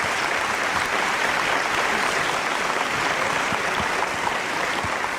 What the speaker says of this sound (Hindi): जोरदार तालियां अश्विनी के लिए।